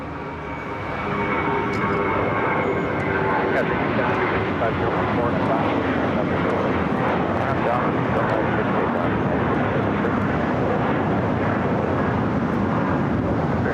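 A Spirit airliner's jet engines roar loudly at LAX, a dense broadband rush that swells in the first second and then holds steady, with voices faintly underneath.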